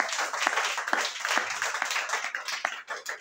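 A church congregation during worship applauds, with dense, steady clapping and loud cheering filling the room throughout and no clear speech.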